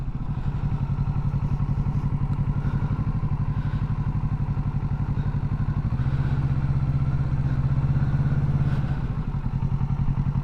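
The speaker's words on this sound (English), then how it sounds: "clutch, I got power, now a little bit of throttle, and the bike's gonna move." A motorcycle engine idles with a rapid, even chugging pulse, then the revs rise briefly as clutch and throttle are fed in to pull away, close and fairly loud without talk.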